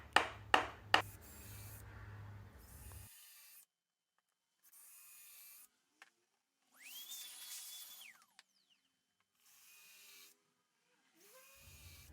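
A drill boring straight dowel holes into wood for handmade furniture: several separate bursts of high whirring, each a second or two long, broken by silent gaps, up close with a few sharp knocks and no talk.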